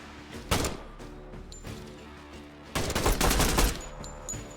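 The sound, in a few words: gunfire in the video game Door Kickers 2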